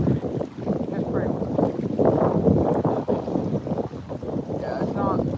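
Gusty river wind at night, around 8 to 12 mph, roars and buffets steadily across the microphone in a dense, rumbling wash, with faint voices now and then beneath it.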